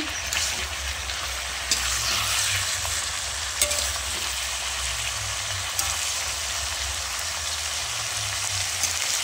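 Turmeric and chili powder stirred in a hot frying pan, a dense steady sizzle like rain with intermittent clacks of a spoon against the pan, close and continuous, for a homestyle katla fish head curry with pumpkin, potato and papaya.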